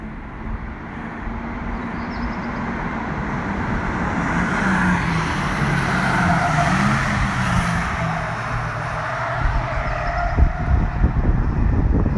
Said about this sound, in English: Let's sign off with these three brilliant sporty blue Type Rs swinging by